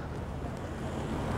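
Steady wind roars and buffets across the microphone, a constant low rumbling rush with no voices, outdoors among trees on a windy stretch.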